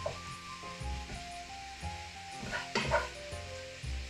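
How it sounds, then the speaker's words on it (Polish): Rice soaks in warm oil in a pan, giving a soft, low sizzle with scraping and stirring noises from a utensil, fairly faint and close, in short uneven bursts. "Tu sobie ryżyk. Tu sobie troszeczkę nasiąknie tym olejem. On już jest ciepły"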